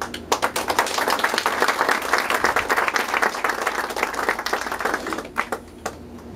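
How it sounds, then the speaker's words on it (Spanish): Audience applause at a Troncaleños association gathering in the USA, a dense steady burst of clapping from a crowd that thins into a few scattered claps at the end. "Merecidos aplausos."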